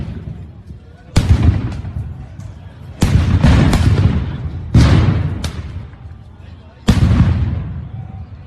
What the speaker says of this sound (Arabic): شوفوا كم قنبلة صوت طلعوا على البيت